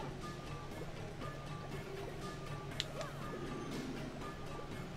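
Water fills up in Paper Mario: The Thousand-Year Door with a continuous, soft rushing and gurgling wash that stays quiet and steady, with no speech.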